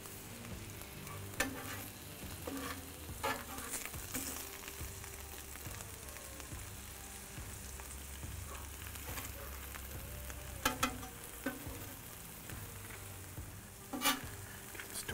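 Thin folded slices of provolone cheese for provoleta sizzle steadily on a hot grill, a soft continuous crackle with occasional sharper pops, with no talking.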